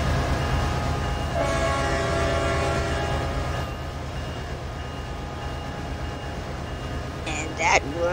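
Train horn sounding in the Roblox video game, a steady multi-tone blast lasting a few seconds over continuous rumbling train noise, followed by a short sharp squeal near the end; no speech in the clip.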